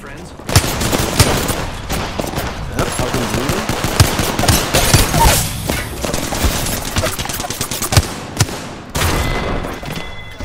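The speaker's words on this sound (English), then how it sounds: "I am taking fire, friends." Rapid video game gunfire crackles in dense bursts and volleys with occasional thuds, loud and continuous, while players chatter over it.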